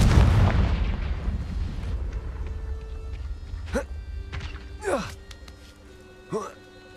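Confringo fire spell blasts from Hogwarts Legacy: a broad booming burst at the start decays into rumble, followed by three sharper, fainter spell bursts spaced a second or so apart, with game music tones underneath.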